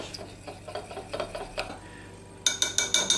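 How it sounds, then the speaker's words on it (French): A spoon stirs a homemade deodorant of baking soda and melted coconut oil in a small container, giving soft scraping strokes and then a quick run of sharper clinks against the side. "Et je vais mélanger pour que ce soit bien homogène."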